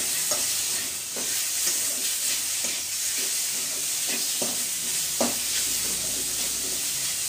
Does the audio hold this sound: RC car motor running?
no